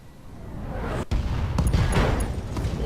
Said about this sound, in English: We're getting a lot of explosions.